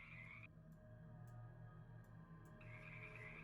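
Frogs croak in rice paddies in the countryside, a steady low chorus of calls carrying on continuously with no talk over it.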